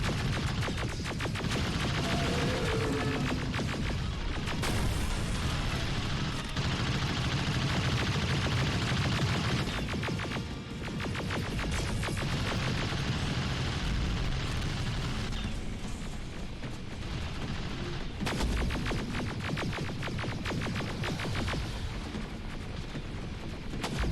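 Dense, continuous gunfire and explosions in the video game Terminator Resistance, loud rattling automatic bursts and heavy booms crowding each other with brief lulls, heard up close and without talking.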